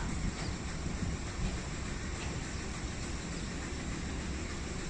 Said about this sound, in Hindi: इस वक्त तेज़ हवा चल रही है।